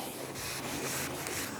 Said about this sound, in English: and then wipe it off with a rag